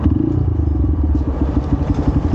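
A Honda CRF150L motorcycle engine rumbles steadily up close, its exhaust giving a low, throaty drone with slight rattling pulses throughout.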